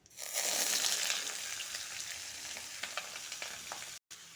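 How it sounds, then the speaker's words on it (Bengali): Bay leaves, radish, potato, ridge gourd, pointed gourd and bottle gourd dropped into hot oil in a pan: a loud close burst of sizzling that eases into a steadier fry with scattered scrapes and ticks. "দুইটা তেজপাতা মূলা আলু ধুন্দুল পটল আর লাউ এটা ঢেলে দিব এখন"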